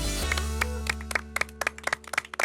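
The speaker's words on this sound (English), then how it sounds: "I think that deserves a round of applause" Scattered clapping from a small group on the set of a food truck cooking competition show, starting sparse and building into quicker, overlapping claps over a steady low hum.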